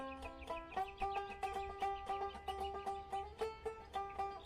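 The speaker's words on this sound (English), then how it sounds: "Y'all hear that bird singing?" A bird sings outdoors near a back porch, a faint, rhythmic run of repeated tonal chirps and calls over a quiet low hum, with no voices.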